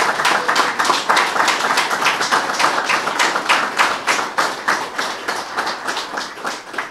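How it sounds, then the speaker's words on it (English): Big round of applause from the audience at a retirement center dedication, many hands clapping in a fast, crisp, rhythmic patter that stays loud and even from start to finish. "Let's give them a big round of applause"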